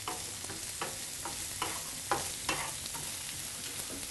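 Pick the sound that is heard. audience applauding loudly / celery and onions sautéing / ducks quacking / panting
celery and onions sautéing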